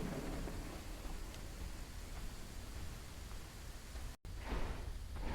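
A steady wash of rain and rumbling storm noise in the dinosaur game Beasts of Bermuda, constant and broadband, with a brief dropout and gusty swells near the end, no voices.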